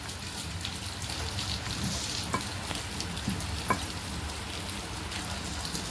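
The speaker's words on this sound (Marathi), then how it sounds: "आता आपण तळून घेऊया" Spiced pumpkin puris deep-frying in hot oil: a continuous close hissing sizzle, with a few sharp pops and crackles breaking through now and then.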